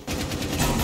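Gunfire from the operator Frost in Rainbow Six Siege rattles out as a dense, loud automatic burst lasting under a second, with no voices.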